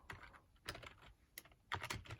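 Computer keyboard typing on an AmigaOS 4.1 machine, quiet bursts of clustered key clicks with short pauses between, close and alone.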